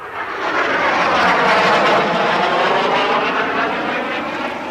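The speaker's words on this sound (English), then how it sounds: "Oh, it's a plane. Must be from the airfield down there." A propeller airplane from a nearby airfield passes low overhead, a loud steady engine roar swelling and then easing slightly, with no voices.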